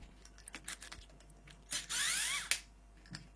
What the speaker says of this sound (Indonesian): Dia pakai obeng bintang.